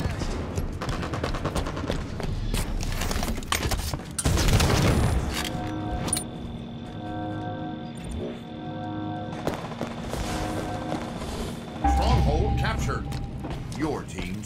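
Gunfire in a Halo 5 Arena Strongholds match on the Eden map, with bursts of shots and booms over mechanical game effects and music, loud and dense early, with a voice talking intermittently.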